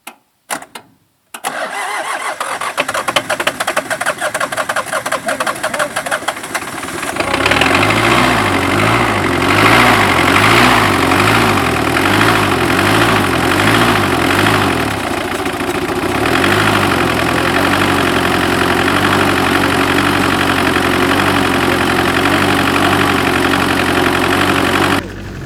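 A 1984 Dodge D50 diesel turbo engine cranks briefly, then catches and settles into a loud, steady clattering idle with a rhythmic low throb that shifts slightly partway through.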